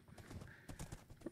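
Hooves of horses being ridden in Minecraft on Xbox One clip-clop in a quick, uneven rhythm, quiet and close, with a brief whinny-like tone near the end.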